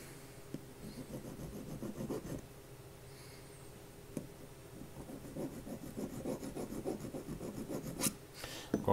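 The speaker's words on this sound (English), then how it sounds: "filing and whatnot." Hand file rasping over a metal CPX trigger pivot fitting held flat on a surface: quiet, repeated scraping strokes in an uneven rhythm, close by with no talk.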